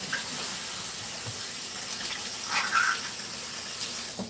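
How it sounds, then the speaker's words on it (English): Hands being washed under a running kitchen tap during keto cooking: a steady wash of flowing water with brief splashes and rubbing, moderately near, with no talking. "Let me wash my hands for a sec"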